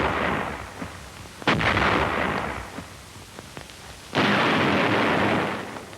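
A wartime artillery barrage booms with heavy, rumbling blasts, two sharp loud onsets followed by sustained roaring detonation noise and scattered smaller bursts, with no speech.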